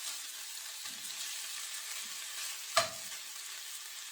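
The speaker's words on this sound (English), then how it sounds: "Once it starts to sizzle, we start to turn it over" Shaved steak frying in a pan gives a steady, faint hissing sizzle, with a few soft stirring scrapes and one sharp clink of a utensil partway through.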